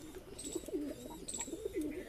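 Pigeons of several high-flying breeds, including Madras, Giribaz, Saranpuri and Teddy cross, cooing together in a breeding cage, with soft repeated throaty coos close by over faint background noise.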